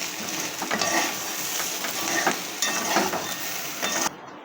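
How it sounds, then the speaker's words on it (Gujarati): Potato chips curry is stirred in a pan with green coriander added, a steady close sizzle broken by scraping and occasional clinks of the spoon against the metal, ending abruptly. "હવે આપણે એડ કરીશું લીલા ધાણા ફરીથી આપણે એને મિક્સ કરી લઈશું"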